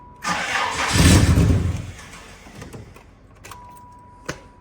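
A car engine cranks with a loud rising whir that sputters and fades, followed by a few clicks and a sharp knock; it never settles into an idle.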